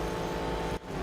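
A car passes by in the Real Racing 3 mobile racing game, its engine a steady, full drone that briefly drops out for a moment before resuming, with no speech heard.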